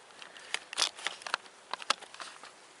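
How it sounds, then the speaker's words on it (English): First drops of rain falling under an overcast, stormy sky, scattered light pattering ticks and taps spaced irregularly and close by, with no voices. "it has just started to rain"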